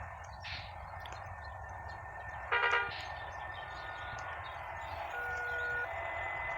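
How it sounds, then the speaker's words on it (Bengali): A train passes at a distance with a low rumble, a short burst of horn toots and thin sustained whistle-like tones over steady background noise. "দেখেন ট্রেন যাচ্ছে"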